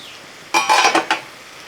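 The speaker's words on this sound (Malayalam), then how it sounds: "ഒന്ന് ഇളക്കി കൊടുക്കുകയാണ്." Spatula clinks and scrapes against a pan as a Kerala-style egg fry is stirred, a quick cluster of four or five close metallic strokes after a brief quiet.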